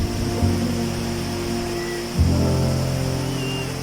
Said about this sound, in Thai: ก็เป็นน้ำตกใหญ่หนึ่งครับที่สวยงามมากๆเหมือนกันครับ